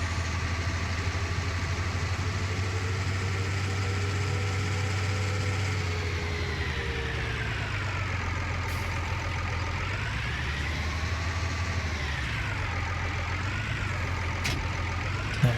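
Tractor engine idling steadily in Farming Simulator 19, a continuous low diesel rumble with a faint whine that shifts slightly in pitch partway through, heard alone with no talk.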